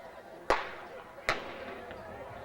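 Two sharp starting-gun cracks ring out at a high school track meet, the second signalling a false start, each shot echoing briefly over open outdoor background noise.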